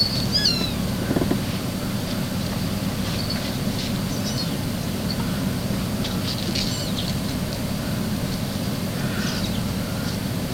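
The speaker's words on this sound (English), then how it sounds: "The little squeaking and bell sounds you hear is my 6-week-old kitten" A 6-week-old kitten gives several faint, high squeaks now and then along with the light jingle of a small bell, all over a steady low background hum.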